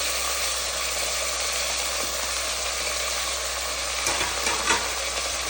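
Broccoli and other vegetables, including tomato and carrot, frying in a pan as they are stirred, giving a steady, soft sizzle with a few faint scraping knocks near the end.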